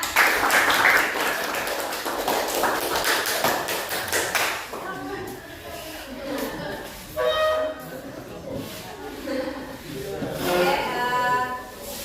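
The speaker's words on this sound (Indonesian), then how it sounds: "Tepuk tangannya ya." Students in a biology class applaud after group presentations, a few seconds of quick rhythmic clapping that fades into scattered voices and classroom chatter.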